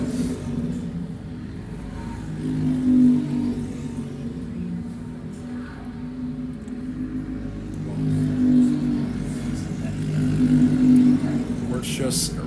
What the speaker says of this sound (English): The 2 leaders coming up to a lapped kart and moving past easily.